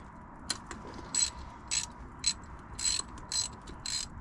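A stiff, rusty 10 mm bolt on a JDM Nissan 300ZX twin turbo being worked loose with a ratchet: a close series of sharp clicking ratchet bursts in an irregular rhythm, with no talking.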